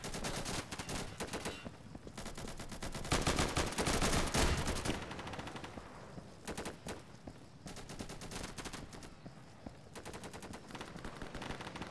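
Rapid semi-automatic gunfire from a rifle in the video game Insurgency, dense bursts of loud shots running almost continuously throughout, peaking in a heavy volley near the middle.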